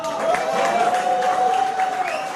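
An audience at a mushaira poetry night applauds a poet, a dense, continuous patter of clapping from a crowd with a faint tonal hum underneath.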